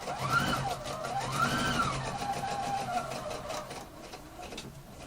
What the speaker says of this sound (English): I'm now going to start sewing from the back